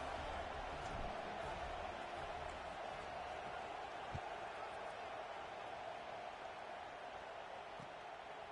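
A large football stadium crowd at an Ohio State game gives off a steady, distant roar and murmur that holds evenly throughout, sitting beneath a commentator's voice.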